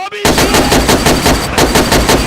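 Loud, rapid automatic gunfire from the video game DayZ, a dense close burst of shots that keeps going with a brief break.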